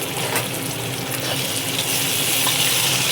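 Green peas tipped into hot oil in a kadai fry with a loud, continuous sizzle and crackle, steady and close throughout with no voices.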